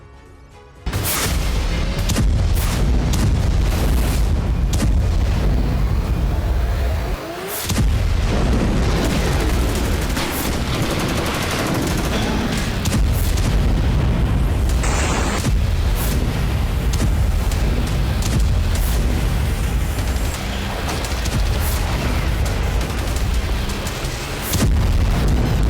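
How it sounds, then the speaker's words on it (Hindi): Heavy Russian missile strike on Kharkiv: loud, continuous rumbling explosions and booming blasts that run almost unbroken for the full length, with dense overlapping detonations and no voices. "रूस की भारी भरकम मिसाइलों का हमला।"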